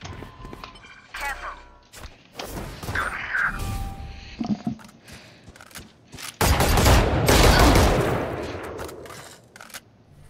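Video game gunfire sounds in bursts during a live stream, with scattered shots followed by a loud sustained volley near the end, and people talking over parts of it.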